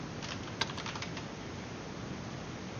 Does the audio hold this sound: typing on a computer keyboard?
yes